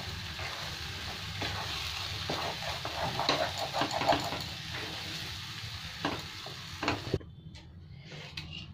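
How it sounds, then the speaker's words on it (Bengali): Ground tomato chutney with salt being stirred and fried in a pan, a close crackling sizzle with repeated scraping strokes that cuts off abruptly near the end. "একটু ভালো করে নেড়ে নেড়ে শুকনো করে নেব"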